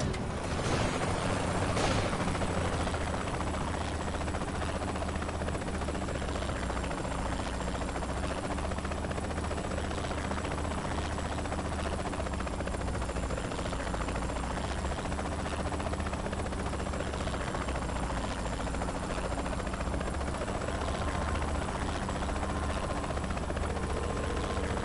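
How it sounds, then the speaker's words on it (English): Steady helicopter rotor drone from Saints Row 3 holds throughout at a constant loud level, with a thin high whine above and a brief burst of louder noise near the start. "Where's that guy in the helicopter going?"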